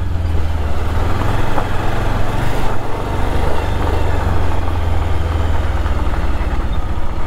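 A Bajaj Pulsar 220 motorcycle engine idles steadily up close, a continuous low rumble holding even for the whole stretch with no voices over it.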